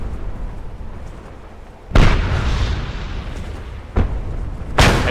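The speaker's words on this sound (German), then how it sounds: "Hey, die Bomben, die schießen scharf." Bomb explosions in Just Cause 2 hit in three loud, broadband blasts: one near the two-second mark, a sharper one around four seconds, and a final burst at the end, each over a constant rumbling game din.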